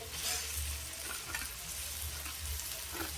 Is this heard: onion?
yes